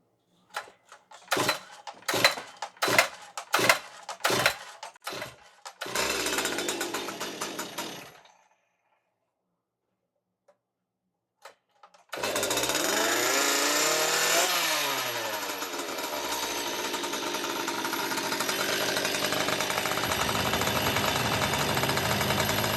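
A Stihl MS261 chainsaw fitted with a modified exhaust pipe gives a series of short pull-start bursts and sputters, goes quiet, then fires up and runs loud and steady with a rising, falling revving whine.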